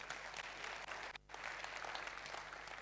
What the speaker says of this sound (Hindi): देखो भैया ने ताली बजाई, तुम भी बजाओ।